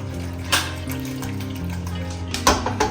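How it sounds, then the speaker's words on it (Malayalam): Water splashes and pours steadily from a glass into a pot of dal, with a couple of louder splashes and clinks along the way. "ഒരു ഗ്ലാസ് വെള്ളം ഒഴിച്ചിട്ട്"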